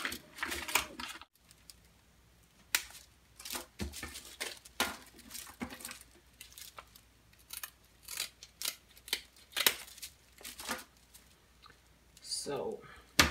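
An X-Acto knife slices through fabric in a series of sharp, irregular snipping and scraping strokes, close and crisp, while a person talks intermittently between cuts.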